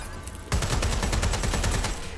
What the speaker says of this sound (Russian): Ух ты, пулемет у меня классный,